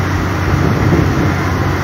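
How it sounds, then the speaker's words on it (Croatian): Three huge farm tractors roll toward a road blockade on a central city street during a farmers' protest, a loud continuous engine rumble close by with no talk. "To su tri ogromna traktora koje se ovog trenutku kreću"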